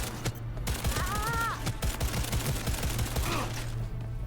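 Gunfire in the game Cyberpunk 2077, a rapid burst of sharp shots in quick succession over continuous background music, with a brief voice in the middle.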